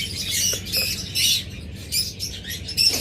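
Pair of pet birds chirping and squawking at close range, short bright calls repeating in quick bursts over a low background hum, with no talking.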